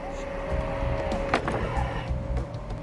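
Stryker armored vehicles racing at full speed toward a compound at dusk, a steady engine and road drone with a brief louder swell midway, no voices.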